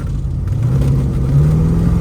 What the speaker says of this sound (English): Really hear that great intake noise from the motor, even through exhaust manifolds.